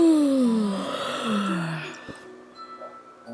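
A single drawn-out human yawn with a falling, moaning pitch that fades into a soft breathy exhale, close and fairly loud, followed by faint rustling.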